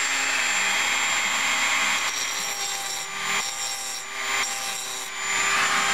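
A hand file rasps against a chainsaw chain in a few slow, scraping strokes, close and fairly quiet with no talking.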